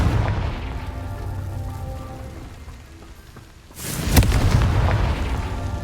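Confringo fire spell exploding in Hogwarts Legacy: after a quieter stretch, a sudden loud burst hits, then a sustained crackling, rushing roar continues.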